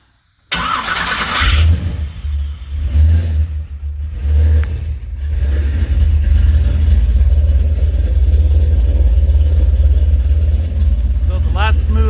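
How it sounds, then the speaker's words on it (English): A C3 Corvette V8 engine cranks briefly and fires on a cold start in a 50-degree garage, then settles into a loud, steady, slightly uneven idle that runs close and continuous to the end. "Let's see what she does for a cold start. Cranking, see how quick she fires up."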